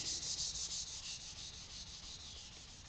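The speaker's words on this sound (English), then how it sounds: "So when I got done sanding it," Hand sanding of a mold for a radio-controlled model pod rasps in quick, even back-and-forth strokes, a bright hissing scrape repeated steadily and close by with no talking.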